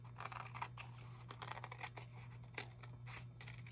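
Scissors snip through a scrap of manila file folder card in a quiet room, several quick cuts in a loose irregular rhythm with a steady low hum underneath.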